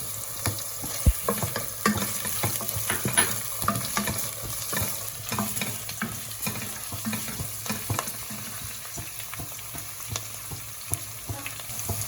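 Mint and coriander fry for mutton biryani in oil, a continuous crackling sizzle with light stirring scrapes throughout, close and steady, with no talking.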